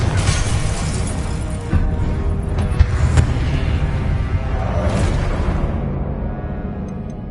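The Confringo explosive spell goes off in the video game Hogwarts Legacy, a loud crackling blast with sharp bursts that decays into a fading rumble.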